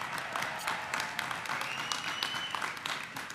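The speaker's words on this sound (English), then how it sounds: "Let's give it a round of applause for the people who graduated today." Audience applauds graduates at a master's recognition ceremony, a steady dense wash of clapping from a large crowd sustained throughout with no speech over it.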